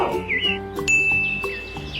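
A few bright, clear bird chirps and a sustained whistled note ring out close, with light tinkling tones around them.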